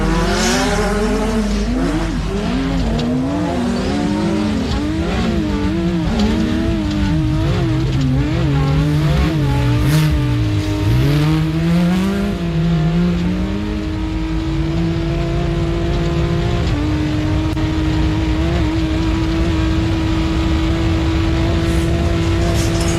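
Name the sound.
race vehicle driving fast through a corner at a 4x4 race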